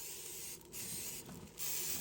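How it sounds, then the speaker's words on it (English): Cooking spray hisses from an aerosol can onto raw pork tenderloin before barbecuing, in a few short, soft bursts separated by brief pauses. "Okay, we're going to just spray this a little bit."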